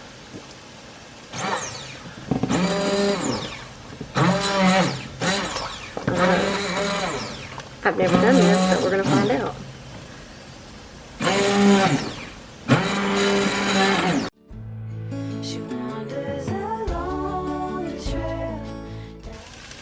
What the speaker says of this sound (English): Now I'm going to use that same 5-in-1 blender.